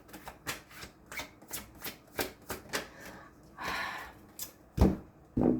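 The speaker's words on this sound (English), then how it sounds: "Let's get another card" Playing cards are shuffled and drawn during a card reading: a series of close, crisp riffling bursts in an uneven rhythm, ending with a few sharper snaps as cards are pulled and laid down.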